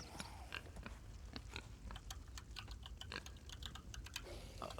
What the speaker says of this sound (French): Peut-être que vous l'entendez au clavier